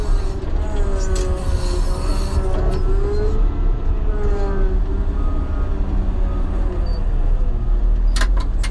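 A Caterpillar motor grader and a truck run near and loud, a steady low engine drone under brief talk, with a few sharp metallic clanks near the end.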